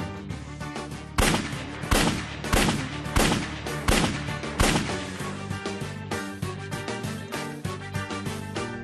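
Gunshots ring out during a raid on a mansion in a Turkish drama, over dramatic music. Several loud, sharp cracks come in irregular succession, then lighter, quicker shots follow.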